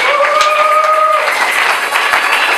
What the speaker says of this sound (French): Je vous appelle à l'applaudir très très fort